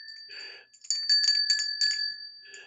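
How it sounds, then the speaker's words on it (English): A small homemade rigged bell rings repeatedly in quick, bright clusters over about two seconds, close and fairly loud, with softer jingles at the start and end and no talking. "I kind of rigged a little bell here."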